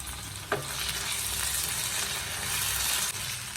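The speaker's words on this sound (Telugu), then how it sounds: "ఈ చికెన్ ముక్కల్ని కొంచెం ఫ్రై చేద్దాం" Chicken pieces frying with ginger garlic paste in a pan: loud, continuous close sizzling and crackling with a brief stir clatter near the start, no talking.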